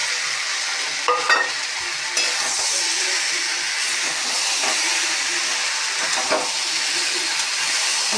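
Soya chunks stirred and frying in a pan for an egg, potato and soya curry: a steady close sizzle runs throughout, broken by scraping stirring strokes near the start and again around the sixth second.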